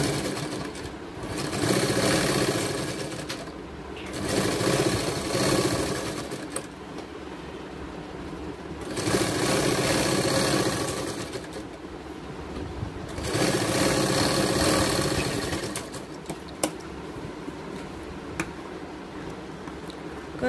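Sewing machine stitching the neckline of a baby gown, several loud whirring bursts of a few seconds each separated by brief quieter pauses, close to the microphone.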